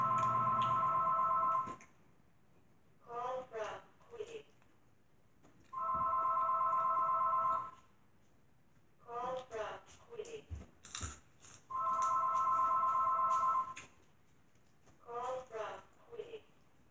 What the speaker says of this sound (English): I know my phone will ring.